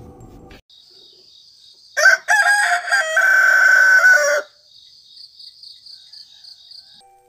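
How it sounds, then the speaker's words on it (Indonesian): Roosters crow back and forth in rural morning air: a loud, close crow in the middle of the clip, with a steady high insect drone behind it and fainter calls at the start and end. "suara ayam jago berkokok bersahutan menyambutku"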